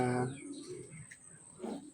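Pigeons coo softly during feeding time at a backyard loft. Two or three faint, low coos are heard close by.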